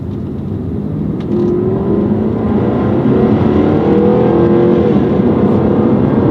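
Steady engine drone of a Jaguar XK RS GT on the road, with a rising whine as it accelerates and a low rumble of its wide tyres, loud and close throughout.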